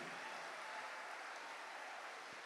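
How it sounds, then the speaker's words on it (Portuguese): Crowd clapping from a worship congregation at a Canção Nova Rebanhão event, continuous and full, a broad even roar of many hands that holds steady throughout without anyone speaking over it. "Não, aplauda para valer,"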